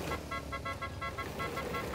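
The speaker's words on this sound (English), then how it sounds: "It sounds like a Mario Kart go-kart beep." A series of short, bright electronic horn beeps from a vehicle in Fortnite, in a quick repeating rhythm over a low engine drone.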